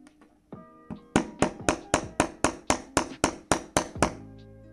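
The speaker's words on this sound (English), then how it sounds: "you might need to take your hammer and just hit away at it gently until it hits flush with the other side." A hammer gently tapping a metal shaft flush into place, about a dozen light, evenly spaced taps in steady rhythm, close and clear with no talking.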